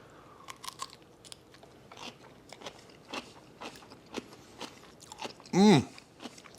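A raw cabbage stalk topped with homemade sauerkraut is bitten and chewed up close, giving a series of crisp crunches and moist chewing sounds at an even pace, followed by a brief voiced murmur near the end.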